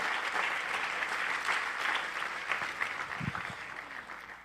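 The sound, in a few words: congregation applause in church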